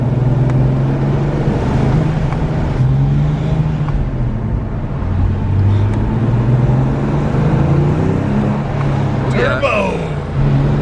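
A Porsche 911 997 Turbo with a manual gearbox pulls hard from inside the cabin, its engine droning and rising in pitch as it accelerates, while the occupants chat over the steady road roar.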